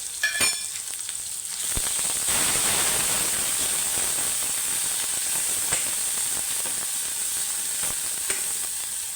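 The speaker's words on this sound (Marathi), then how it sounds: "थोडंसं तेलात व्यवस्थित भाजून घ्यायचं आणि टाकते कसुरी मेथी" Spices roasting in oil as kasuri methi is dropped in for a Kolhapuri-masala spinach dish: a few light clinks, then a steady, close, hissing sizzle that carries on throughout.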